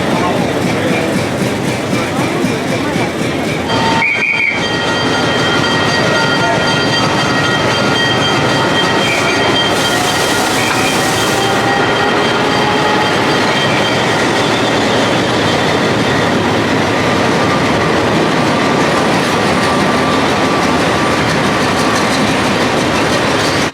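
Train rolling on rails toward Machu Picchu from Aguas Calientes in Peru, a steady loud broadband rumble with clickety-clack over the whole stretch, a brief sharp wheel squeal near the start, and faint voices beneath.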